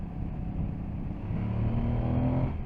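Aprilia Tuareg 660 motorcycle pulling hard in fourth gear on a flat stretch, its engine a steady close drone that climbs in pitch and loudness as it accelerates.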